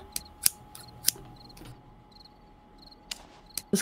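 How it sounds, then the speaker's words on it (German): Sharp, scissors-like snips from the 7 Days to Die video game, several quick separate clicks spaced irregularly over a quiet background, with no talking. "Ich glaube, für den Sound haben sie einfach eine Schere genommen."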